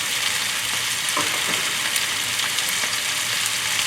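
Bean sprouts, carrot, onion, pea pods, mushrooms and bamboo shoots stir-frying over high heat for chicken chop suey, a dense continuous sizzle with faint scrapes of stirring, close and loud, no one speaking.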